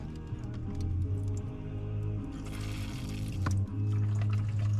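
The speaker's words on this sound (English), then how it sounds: "This is the sink, and this actually works." Water runs steadily into a small sink inside a campervan, a continuous close splashing flow with no talking.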